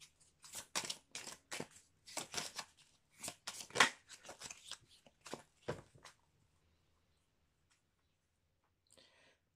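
Oracle cards are shuffled and cut close by in quick, soft riffling bursts over about six seconds, then fall quiet, with no talking.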